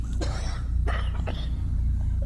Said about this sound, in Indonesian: Kali ini terdengar ada suara orang yang batuk-batuk